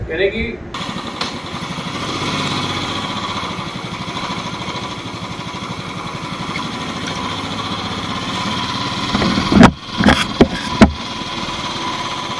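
A motorcycle riding on the road on a Champawat to Delhi trip, just leaving a hotel; a steady engine drone with wind runs throughout, with a voice talking over it and a few louder bumps and rattles near the end.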